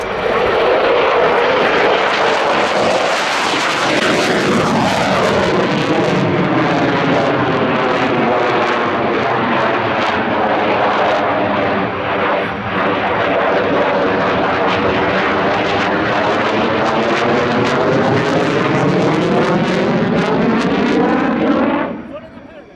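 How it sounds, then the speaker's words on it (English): Royal Danish Air Force Lockheed Martin F-16AM Fighting Falcon jet flying at an airshow, a loud roaring pass with a sweeping pitch shift as it approaches and recedes, then cutting off, with talk audible under the noise. "The second sight today of the General Dynamics, now Lockheed Martin F-16AM Fighting Falcon."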